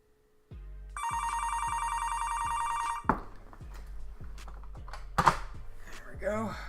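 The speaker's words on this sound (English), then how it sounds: "Got my daily phone call from whoever it is" A telephone rings with an incoming call, its repeated electronic trill pulsing steadily and fairly close for a couple of seconds before it stops, followed by faint clicks and a brief voice.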